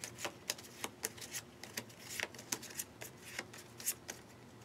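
A deck of story character cards is shuffled close by, producing quick, crisp riffling bursts in an uneven rhythm with no talking.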